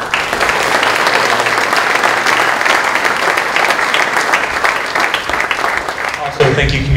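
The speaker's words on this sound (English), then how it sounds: "can we give a nice round of applause for our seniors here for all these awards?" A crowd at a senior awards ceremony claps in a long, even burst of applause, loud and continuous, with a voice briefly cutting in at the very end.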